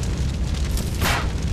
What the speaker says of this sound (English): Stop throwing pipe bombs at me!